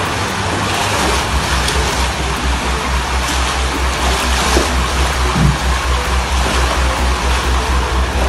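Steady heavy rain pours across a city in Guadalajara, a dense continuous wash of falling water and runoff with a low rumble underneath, loud and unbroken throughout.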